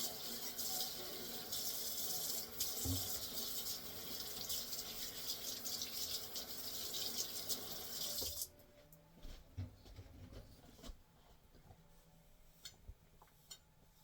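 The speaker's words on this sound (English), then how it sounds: "Wash a knife from the back." Running tap water splashes steadily into a kitchen sink while a knife is washed, then the flow stops, leaving a few faint clinks and drips.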